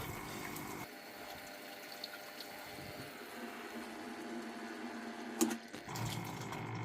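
An electric water pump motor runs steadily, humming as it fills a water tank through a pipe, with a continuous low drone and a brief clunk near the end.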